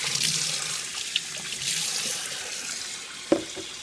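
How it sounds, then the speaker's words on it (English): Tap water runs steadily into a sink as a Vitamix blender lid is rinsed underneath, a continuous close splashing hiss with a couple of small knocks from the lid. "Same thing for the lid. Just give it a good little rinsing."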